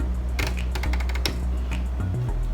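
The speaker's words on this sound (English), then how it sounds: "Right now, I am going to do a basting stitch." A home sewing machine running a long basting stitch for a zipper, a quick burst of rapid mechanical clicking and tapping that stops and starts, with a short low motor whir near the end.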